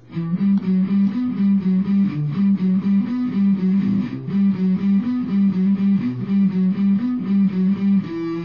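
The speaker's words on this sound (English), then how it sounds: "that's the palm muting you're going to do during the verse when they're still repeating this guitar riff" The chugging, palm-muted electric guitar verse riff of a song, low, choppy repeated notes in a steady rhythm, loud and played alone.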